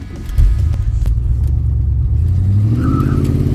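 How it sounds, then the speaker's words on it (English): A 1979 Corvette C3 engine revs loud and close with a deep rumble, and its tires chirp briefly, the sound steady and alone without talk. "Oh, she chirps the tires quite easily now."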